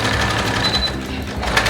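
A sewing machine runs continuously at close range, stitching a long, thick stitch along the center of a kurti neckline in one short, steady run, with no speech.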